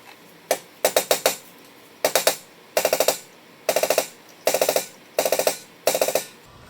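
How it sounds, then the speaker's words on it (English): A soft mallet taps a car brake rotor on a BMW E39 rear brake, in eight quick bursts of three to five sharp metallic knocks each, close and loud with short pauses between the bursts. "I'm going to use a soft mallet and just give it like a kind of gentle tap"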